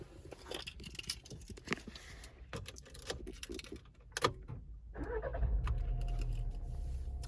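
A car is started after scattered clicks and rattles from a key and the dashboard, and the engine catches near the end and settles into a low, steady idle.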